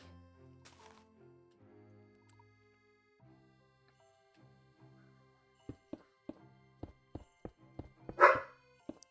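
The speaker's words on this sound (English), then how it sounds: "I don't care that the other doggo is barking." A dog barks once or twice amid a series of sharp knocks and thumps, faint at first then louder near the end.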